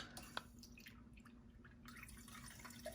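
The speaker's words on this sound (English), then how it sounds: "I actually have a water fountain here. And let me turn it on" Faint trickling and dripping from an indoor water fountain in a living room, with a soft steady water sound punctuated by a few small plinking drops.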